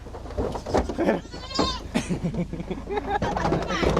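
Goats bleat repeatedly at close range, their wavering cries overlapping with people talking in Filipino as the animals are handled.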